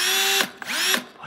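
A Milwaukee cordless drill whirs loudly at close range in two bursts, each with a steady high motor whine that cuts off, then a softer spin-up near the end.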